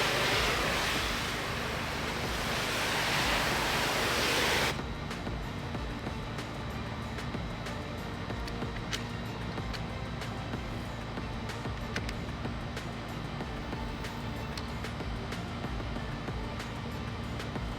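A pressure washer rinses a driveway in Jacksonville, Florida, with a loud, steady rushing spray for about five seconds. It then cuts off, leaving a lower, continuous machine drone for the rest.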